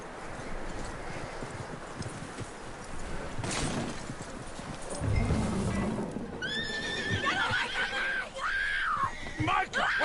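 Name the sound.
horse neighing in video game Red Dead Redemption 2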